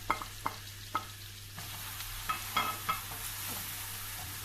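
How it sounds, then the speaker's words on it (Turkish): Onions frying in oil with a soft steady sizzle, broken by several sharp scraping clicks of a spoon stirring the pan. "Öncelikle soğanlarımı kavuruyorum."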